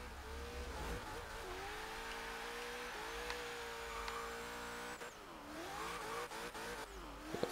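A Hennessy Venom accelerating hard in Forza Horizon 3, a loud, steady engine roar climbing through the revs with brief dips at gear changes, continuous and close throughout.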